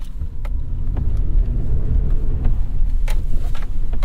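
A 2021 Chevy Colorado ZR2 on Goodyear Wrangler tires driving with traction control off and wheels spinning, a steady close low engine and road rumble with occasional clunks and knocks.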